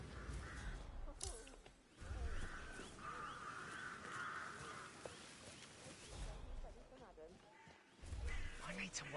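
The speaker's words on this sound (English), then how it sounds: "I'll never get rid of those stupid birds." Crows caw intermittently in the Hitman video game, the harsh calls repeating through the middle of the stretch with game ambience and low thumps, and a voice talks over part of it.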